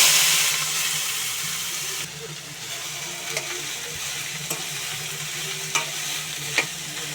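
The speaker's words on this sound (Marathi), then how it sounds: "आता आपण त्याला थोडीशी फ्राय करून घेऊया." Cooked banana stem vegetable frying in oil makes a loud, continuous hissing sizzle, punctuated by a few soft clicks of stirring near the end, with no voices.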